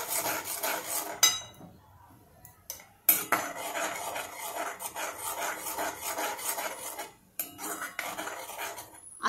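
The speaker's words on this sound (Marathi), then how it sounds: "आणि आता हा मसाला आपण व्यवस्थित सातळून घेऊया." Masala being sautéed for a vegetarian Kashmiri-style potato and paneer dish, a spoon scraping and clinking against the pan in steady rubbing strokes with brief pauses, close and fairly loud, no talking.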